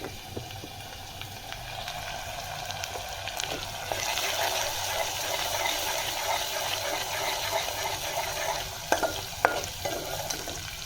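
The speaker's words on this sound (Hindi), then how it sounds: "इसको भूनेंगे अच्छी तरीके से" Spices for a paneer curry, including salt, turmeric, coriander and red chilli powder, are stir-fried in a pan with a continuous close sizzle and scraping stirs, steady throughout.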